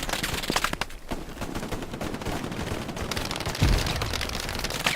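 Sustained MG42 machine gun fire in the World War II shooter Hell Let Loose, a dense continuous rattle of rapid shots with a louder burst near the end, mixed into steady battlefield noise.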